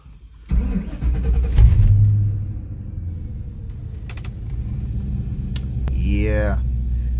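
A 1998 Ford Mustang GT V8 with a newly fitted fuel pump cranks and fires, then settles into a loud, steady close idle rumble, with someone talking briefly near the end.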